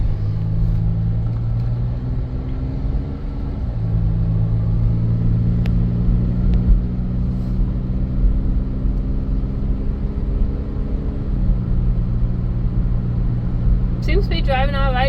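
A 2005 Buick Terraza minivan on the road, its engine holding a steady low hum that shifts pitch a couple of times as it drives, over continuous road rumble with faint ticks; a brief chirpy sound near the end.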